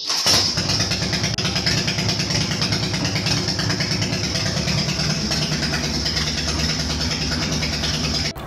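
A wrecked Denver's Chopper motorcycle, its carburetor just cleaned, cranks over and fires, then settles into a loud, continuous, lumpy running rumble close to the microphone, with no voices.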